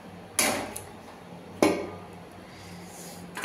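A metal lid set down on a cooking pot of potatoes simmering in water, giving two sharp, close clanks about a second apart, each with a short ringing decay, in an otherwise quiet kitchen.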